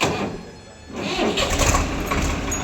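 A Swaraj 855 tractor engine runs close by, a steady diesel rumble that swells after a brief dip, with someone talking over it.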